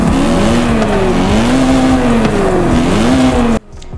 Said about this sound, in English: I'll give it a couple of revs, the engine. You can just listen to that beautiful engine.